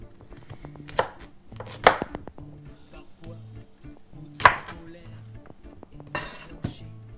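Raw beetroot and organic red-skinned pears sliced on a mandolin: a string of crisp, sharp cutting strokes at an uneven pace, some with a light clink, close and clear over a quiet, low background hum.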